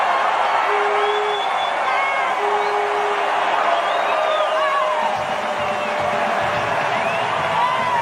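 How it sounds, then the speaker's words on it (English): A large football stadium crowd at a 1988 college game, Penn State at West Virginia, roaring continuously at the end of the first half, a loud dense wash of cheers and whoops with scattered whistles, heard alone without commentary. "Listen to this crowd."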